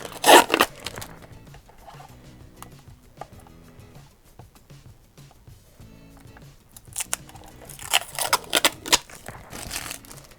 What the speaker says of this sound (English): So I'm just going to peel the plastic.